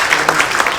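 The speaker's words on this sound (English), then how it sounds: "A big round of applause for all young volunteers." Brief burst of audience applause at a fundraising gala dinner and qawwali night in a community center turned banquet hall, honoring young volunteers; dense, even clapping fills the whole moment.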